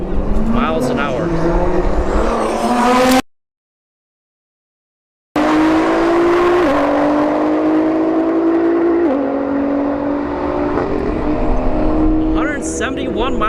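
Drag racing cars, including a performance GTR, scream down the strip at a street-heat event, loud engine notes rising through gear changes, with a brief silent gap midway and an announcer talking over the racing.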